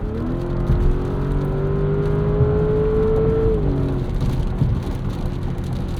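A 2024 Porsche Cayenne S with a V8 accelerates hard on kick-down, its engine note climbing steadily, then dropping at a gear change, heard from inside the cabin.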